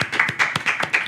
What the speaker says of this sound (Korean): 다시 한번 박수 칠까요?